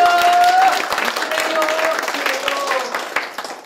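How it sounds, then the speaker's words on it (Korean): Applause rises from an audience at an integrity training session for council members, clapping spreading under lingering voices and a fading tone, moderately loud and tapering off. "박수 한번 주세요"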